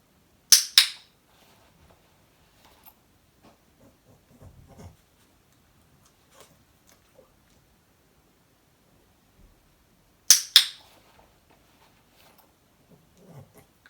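A dog training clicker gives sharp double clicks twice, about ten seconds apart, crisp and close in a quiet room with faint small shuffling sounds between.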